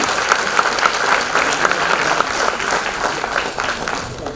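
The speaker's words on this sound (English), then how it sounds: "Let's give another huge round of applause," Audience applause at a chamber of commerce curtain-raiser event, a steady, dense wash of clapping from a large crowd that continues loud and unbroken throughout.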